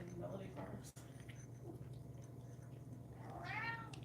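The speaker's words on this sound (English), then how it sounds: "I hear you meowing, buddy" Gary the cat meowing, one faint drawn-out meow near the end, heard in a quiet room with low hum and soft murmured talk earlier.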